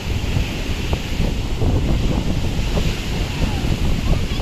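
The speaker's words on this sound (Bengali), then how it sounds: "ঘন ঘন প্রচুর বড় বড় ঢেউ আসছে" Big ocean waves break one after another on the beach at Puri, a loud continuous surf roar with heavy wind buffeting the microphone.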